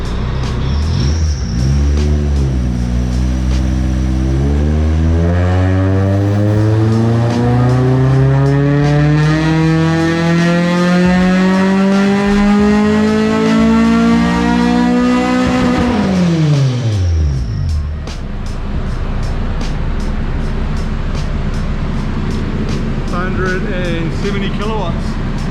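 A K24-swapped Honda DC5 RSX revs on a dyno pull, its engine note climbing steadily for about fifteen seconds into a loud, harmonic-rich scream, then dropping sharply and settling to a rough idle with popping, all close and very loud.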